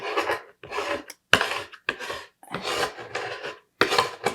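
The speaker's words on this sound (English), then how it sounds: "I just use the razor blade here to just scrape off the paint" A razor blade scrapes dried paint off a palette in repeated rasping strokes with short gaps, close and loud, with no voices.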